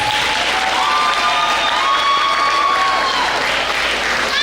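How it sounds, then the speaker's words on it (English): An audience at a school family literacy night applauds its MCs and poets with loud, sustained clapping from a crowd indoors, throughout. "let's give another round of applause for our MCs and our poets"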